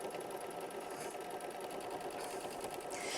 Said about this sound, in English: We're going to go ahead and hit start and stitch out machine stitch step 3.